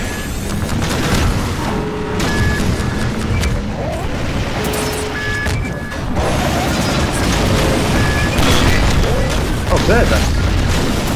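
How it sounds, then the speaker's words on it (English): Rocket launcher explosions in the Half-Life 2: Episode Two finale, rolling booms and crashing impacts layered over constant battle noise, with a person briefly speaking over the chaos. "They're shooting at them, literally, with rocket launchers."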